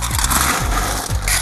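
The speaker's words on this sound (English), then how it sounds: "Fill it up with ice." Ice cubes tumble into a rocks glass while a mudslide cocktail is being made, giving a dense, continuous clatter and scrape of cubes against glass and each other, fairly close and loud, with no talking.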